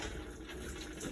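Water rushes steadily through the plumbing of a 2021 Forest River Alpha Wolf RV shower during winterizing, a dense continuous hiss and gush with no pauses, close and fairly loud, with no talk.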